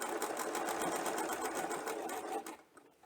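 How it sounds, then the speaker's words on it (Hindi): A home sewing machine runs steadily as it stitches lace onto a garment neckline, whirring loud and close with a rapid needle rhythm before slowing and stopping near the end. "जहाँ पर रफल स्टिचिंग की हुई है वहीं पर हम मशीन की सिलाई लगाएंगे"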